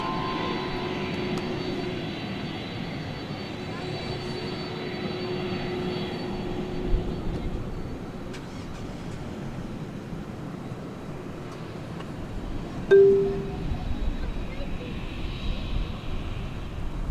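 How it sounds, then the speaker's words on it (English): At night at DFW Airport, a jet airliner takes off from runway 18 left, a steady broad roar heard from a distance, with a brief sharp knock partway through. "I think we're going to see it take off over here. It's going all the way to the end of runway 18 left."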